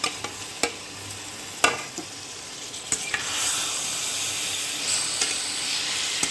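Fried chicken and pathri frying in masala in a pan, a steady hiss and sizzle marked by several sharp scraping stir strokes, heard close with no talking.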